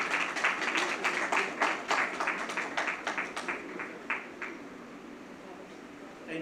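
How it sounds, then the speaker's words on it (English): Scattered audience clapping at a book launch, individual claps distinct and uneven at first, then thinning and fading out toward the end. "Keep up with a round of applause, please."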